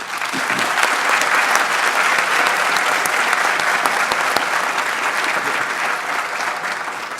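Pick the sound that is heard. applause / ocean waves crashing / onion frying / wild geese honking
applause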